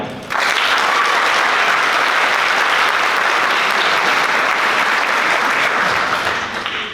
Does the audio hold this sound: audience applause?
yes